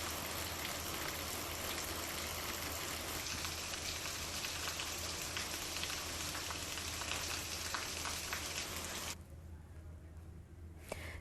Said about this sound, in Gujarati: સુરતમાં મેઘમહેર થઈ રહી છે